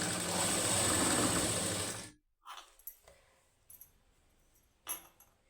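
A sewing machine runs steadily for about two seconds while stitching the neck of a plain high-neck blouse, then stops, followed by a few faint clicks and fabric handling sounds.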